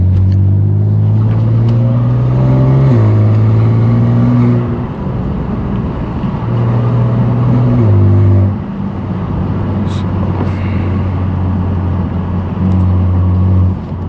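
A BMW F80 M3 Competition with a straight-pipe exhaust drones loud and close on a city drive, its engine note rising and falling through repeated revs and gear changes.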